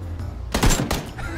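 Gunfire in the PUBG battle royale game, a short sharp burst of shots near the middle of a brief moment, with little else around it.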